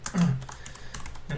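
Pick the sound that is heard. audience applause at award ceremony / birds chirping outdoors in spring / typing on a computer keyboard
typing on a computer keyboard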